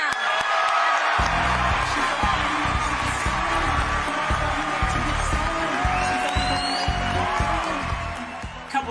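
An audience stands and applauds a performer with loud, sustained clapping and whoops. Music plays underneath, with scattered cheers all the way through.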